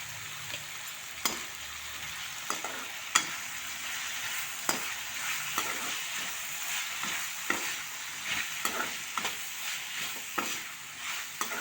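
Onions and tomatoes fry in a pan with a steady soft sizzle, broken by occasional sharp stirring scrapes and clinks of a spoon, with no talk.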